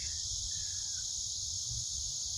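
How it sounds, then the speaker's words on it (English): A continuous high-pitched insect drone fills the air, steady and unbroken, with a low rumble of background noise beneath it. "the cicadas are out again, making their wonderful noise"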